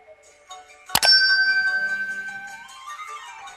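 A notification bell sound effect: a single bright metallic strike rings out clearly, then its tone sustains and slowly decays with a gentle wavering shimmer, with no talking over it.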